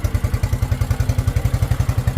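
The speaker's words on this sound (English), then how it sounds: "She has a pinhole exhaust leak right up in that area." 1972 Honda XL250 motorcycle engine with a pinhole exhaust leak idling close by, a steady rapid low thumping beat with an even, loping rhythm and a light ticking edge, heard alone.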